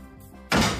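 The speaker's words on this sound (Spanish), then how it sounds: "por favor, no des un portazo" A door slams shut with a single heavy thud after a moment of quiet room tone, the impact loud and near with a brief ringing decay.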